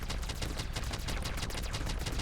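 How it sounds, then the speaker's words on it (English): Auto cannons fire in the From Glory to Goo video game, a dense, continuous rapid barrage of loud overlapping shots with no pauses. "at least the auto cannons are going crazy"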